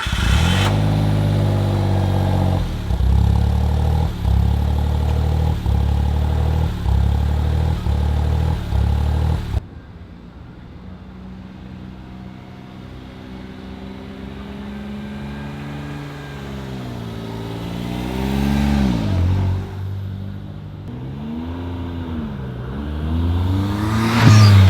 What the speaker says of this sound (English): start the car up and see how it sounds